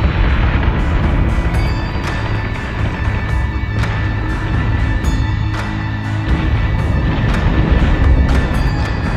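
Dense, continuous heavy rumble with repeated thudding booms from Battlestar ship weapons firing on a Cylon fleet in a video game, loud and unbroken throughout.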